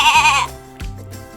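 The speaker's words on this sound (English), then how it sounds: "Let's listen to the lamb." A lamb gives two short bleats, the first a bright wavering cry and the second lower and briefer, heard up close with nothing else around.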